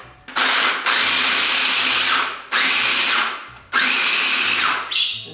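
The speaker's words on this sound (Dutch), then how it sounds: "We malen eerst de noten." Walnuts ground in a food processor, three loud whirring bursts of the motor separated by short pauses, each burst starting abruptly and tapering off, close and harsh.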